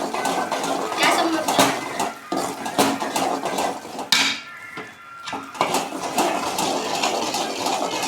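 A spoon scrapes and clinks steadily against a pan while a thickening Mysore pak mixture is stirred, with oil added as it cooks; the scraping runs almost continuously, easing briefly midway before resuming at a close, moderate level.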